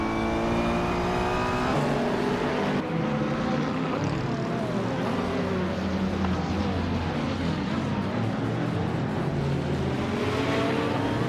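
Several race cars speed around a track in a racing game, engines whining and shifting pitch as they pass and overtake, a dense continuous roar with no talk over it.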